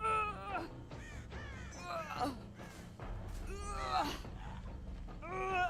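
Crows cawing in a video game: a string of several harsh, rising and falling caws that overlap one another, fairly close and loud, filling the whole stretch.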